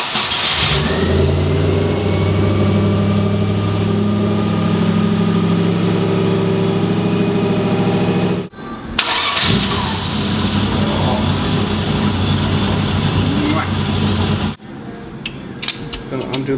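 Land Rover 90 V8 engine running at a steady, loud, close idle with a low rumbling drone, cutting out abruptly twice as the recording breaks, with faint mechanical clatter between.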